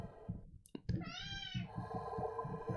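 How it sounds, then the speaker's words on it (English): A pet cat gives a single drawn-out meow, close and fairly soft, over a low rhythmic background pulse. "That's my cat."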